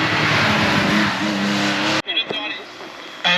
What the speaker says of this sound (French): Eh bien c'est sympathique, voilà, super Volvo.